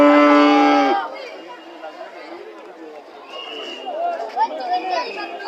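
A single loud cow moo opens the scene at a crowded Qurbani livestock market, the Kuddus Miah bazaar, then gives way to a steady murmur of crowd chatter and people talking.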